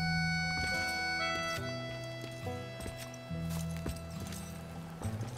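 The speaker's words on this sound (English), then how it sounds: "Lots of horses out in the actual outside part." Repeated hoof clip-clops from horses in the Teardown video game, heard as regular hollow knocks over a steady tonal background hum.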